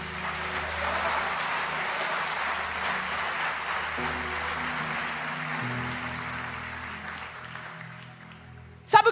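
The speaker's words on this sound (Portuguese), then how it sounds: "Se é para o Senhor, aplauda forte." A church congregation applauds steadily through a service, the sustained clapping sitting under a low musical backdrop and tapering off near the end.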